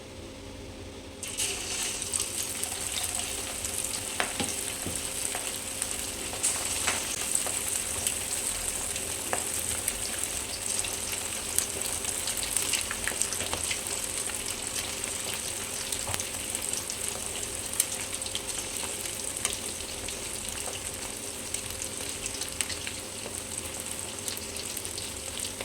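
Chicken pakoda leg pieces frying in oil give a continuous loud sizzle with crackling spatter and occasional clinks, steady throughout with no talk.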